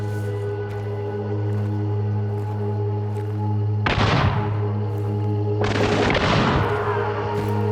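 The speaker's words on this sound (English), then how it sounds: "my search was abruptly interrupted by gunfire echoing from within the compound" Two loud gunshot bursts with echoing tails cut through a steady low droning ambience inside a compound in the video game Hunt: Showdown, the first near the middle and the second shortly after.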